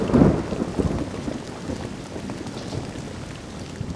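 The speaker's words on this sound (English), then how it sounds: "In the pouring March rain," Pouring March rain over Hartford, Connecticut, falls as a steady dense hiss, with a deep rolling thunder rumble swelling loudest in the first half-second before fading into the continuing downpour.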